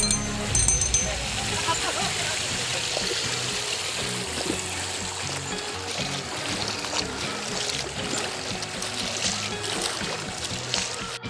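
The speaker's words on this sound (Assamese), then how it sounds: "এই পানী ক'ত গৈ আছে?" Floodwater near Tezpur in Assam rushes toward the river in a steady, loud, broad wash of flowing water that continues without a break.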